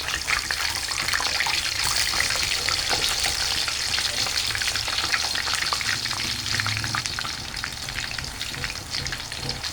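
Sliced banana chips fry in hot oil with a dense, steady crackle and sizzle that holds loud and close throughout.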